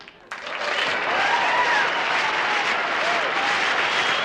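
A burst of applause and cheering from a crowd starts abruptly and holds steady, loud and dense, with faint whoops above the clapping.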